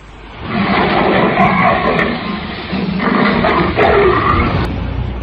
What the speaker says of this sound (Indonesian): terdengar kembali auman singa yang menggeletar